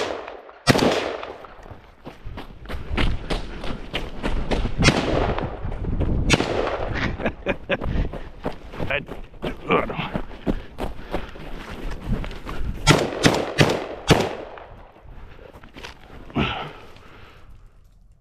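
Loud, rapid gunshots from a ZPAP underfolder rifle during a running-gun drill on a snowy outdoor range, shots in uneven strings with footsteps and movement between them.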